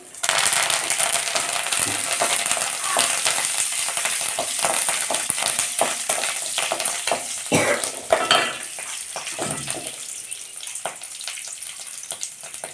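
Curry leaves and urad dal frying in hot oil for a kovakkai leaf (ivy gourd) chutney, a steady loud sizzle broken by scraping stirs and a few sharp crackles, with no talking.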